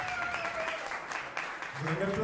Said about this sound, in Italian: Un applauso a Michele Fazio.